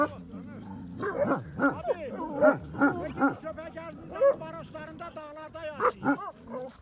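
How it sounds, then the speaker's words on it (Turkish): A dog barks and yelps excitedly in quick, repeated bursts, close by, with a whimpering edge, while people's voices mix in, in a village. "Köpeği fark etti orada kendini bayağı bir bağırıyor."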